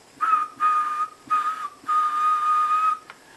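A person whistles a steady high tone straight into a dynamic microphone, close and loud, in several sustained blasts with short gaps between them.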